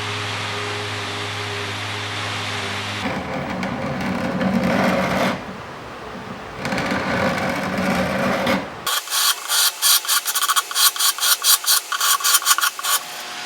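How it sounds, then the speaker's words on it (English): ServPrep 3x4 power sander works over a wooden buffet during furniture refinishing, a steady buzzing grind that shifts in pitch and then breaks into rapid rhythmic pulses as the pad moves, loud and close with no talking. "The ServPrep 3x4 sander is one of my favorite refinishing tools"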